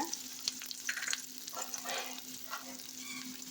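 Small shallots fry with lentils in hot oil, giving a soft, steady sizzle dotted with light crackles and occasional stirring scrapes. Quiet and close, with a faint constant hum in the background and no talking.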